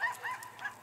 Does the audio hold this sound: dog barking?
yes